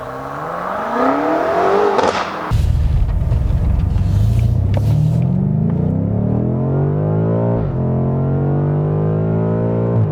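A 2018 BMW M5 First Edition accelerates hard, its engine note climbing steadily through the gears with sharp shift breaks, loud and close from inside the car, with no talking.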